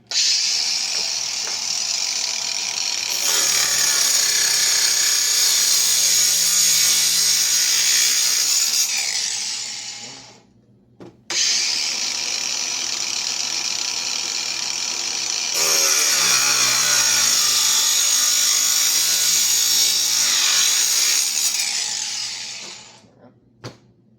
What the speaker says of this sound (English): So what we're going to do is I'm going to cut them and then weld them shut. I'll grab my handy dandy grinder.